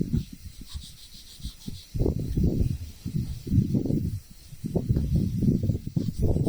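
Sandpaper of 220 grit rubs over a carved stone sculpture in repeated back-and-forth strokes, close and raspy, each pass a short hissing scrape separated by brief pauses.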